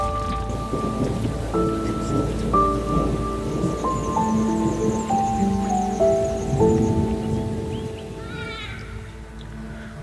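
A thunderstorm heard from under a large tarp stretched over a dinghy, with steady rain on the tarp and low rolling thunder throughout. A faint bird chirp comes near the end.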